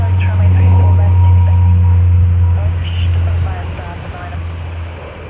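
A China Airlines airliner departs Sydney Airport with a loud, steady low engine roar that slowly fades toward the end, while people talk over it.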